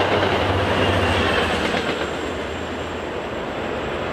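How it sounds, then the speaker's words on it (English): A commuter rail train passes close by beside the Medford Green Line Extension, a loud rumbling roar with rattling wheels and a faint high squeal, easing off slightly as it moves away. "Commuter rail train just went by."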